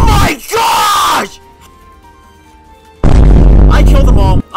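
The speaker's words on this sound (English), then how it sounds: "Heavy shotgun shots!" Heavy shotgun blasts in the Fortnite video game, two loud booming bursts separated by a quieter gap, with an excited voice shouting over the shots.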